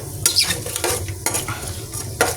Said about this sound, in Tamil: சீரக வெந்தயம் அந்த நெய்யிலையும் நல்லெண்ணெயும் நல்லா பொரியணும்